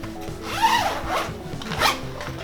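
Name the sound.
unzipping leg compression cuffs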